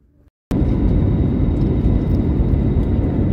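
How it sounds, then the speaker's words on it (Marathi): Jet airliner cabin noise just after takeoff on a flight from Guwahati, a loud, steady broadband roar that starts abruptly after a brief quiet moment and holds constant throughout. "फायनली आम्ही आकाशात भरारी घेतलेली आहे"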